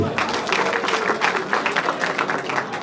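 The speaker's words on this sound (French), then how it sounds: "Est-ce qu'on peut acclamer, s'il vous plaît?" An audience at a political rally applauds and cheers, dense sustained clapping with rhythmic surges, loud and fairly close, with some voices mixed in.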